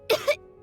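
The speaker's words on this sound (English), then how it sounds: "He kept coughing all the time, just like me." A short, close double cough, two quick harsh bursts from a sick character in the Genshin Impact video game, heard alone.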